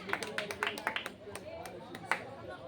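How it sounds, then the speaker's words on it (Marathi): Applause for a guest at a Bhim Jayanti community gathering, heard as scattered bursts of hand clapping under a man's loud speech. "कोयटे साहेबांसाठी जोरदार टाळ्या झाल्या पाहिजेत"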